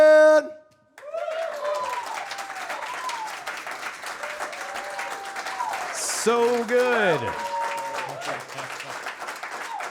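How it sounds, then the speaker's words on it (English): Audience applause fills the room after a live band plays a studio session for radio station WYEP, a steady wash of clapping that carries on while people talk over it. "Man, they're still clapping for you."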